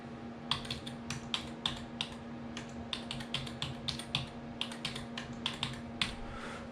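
Someone types a SIM card number on a computer keyboard: a steady run of close, crisp keystrokes, some in quick bursts and some spaced out, over a faint constant hum, with no talking.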